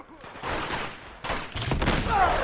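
Gunfire in the game Uncharted 2, a rattling fusillade of rapid shots and bursts over a couple of seconds, fairly loud and close, with battle noise around it.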